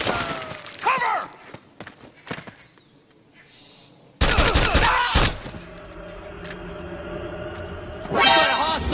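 Gunfire in a tense hostile encounter, heard as bursts of loud close shots and rapid volleys that break in abruptly after a quiet stretch, with shouting voices between and over the firing.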